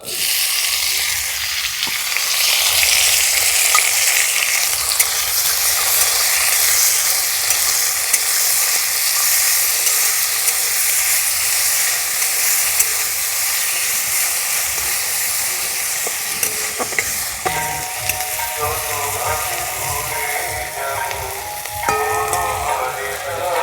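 Chopped onion, tomato and green chili hit hot oil in a village kitchen, giving a loud, sustained sizzle and hiss with occasional stirring clinks, heard close for a long stretch without talk.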